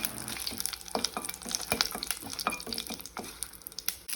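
Curry leaves and three dried red chillies frying in hot sesame oil, crackling with quick irregular pops and a steady sizzle, close and alone.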